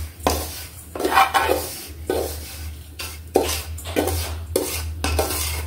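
A spoon repeatedly scrapes and clanks against a metal pan while roasted coconut semolina is scooped onto a plate, a series of sharp, close utensil strokes with brief pauses between them.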